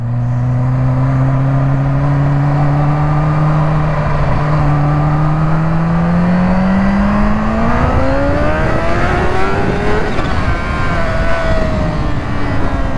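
A Kawasaki Ninja H2 motorcycle engine revs hard and climbs steadily through its range, a loud, continuous rising howl heard close up with no talking.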